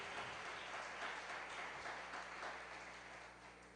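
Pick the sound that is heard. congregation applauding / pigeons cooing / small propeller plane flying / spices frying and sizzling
congregation applauding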